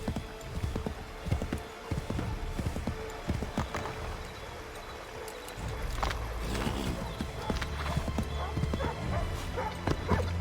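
Horse hooves clip-clop in Assassin's Creed III, a quick rhythmic run of hoofbeats mixed with other game sounds that grows denser and busier toward the end.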